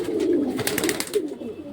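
Caught racing pigeons coo close and fairly loud in a dense, overlapping murmur, with a brief burst of higher rustling or fluttering partway through.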